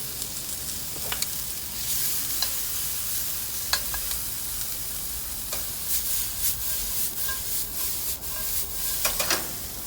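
Sliced fennel hits a hot frying pan and sizzles steadily, a fine crackling hiss with scattered sharper pops and stirring scrapes throughout.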